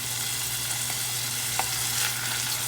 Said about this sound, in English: And saute that up until it gets translucent.